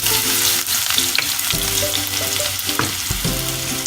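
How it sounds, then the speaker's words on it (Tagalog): Garlic hits hot cooking oil in a pan for a pork and tofu dish, giving a loud, constant crackling sizzle with occasional scraping stirs and no voices. "So ngayon nagpainit na ako ng pan na may mantika, and then lagay na natin yung bawang natin"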